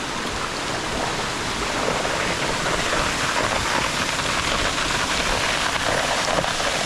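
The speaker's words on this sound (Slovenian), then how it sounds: "In to je dvojni slap." Double waterfall about 30 metres high on a freshwater stream in central Istria, a steady, dense rush of falling water roaring close by without break, no voices over it.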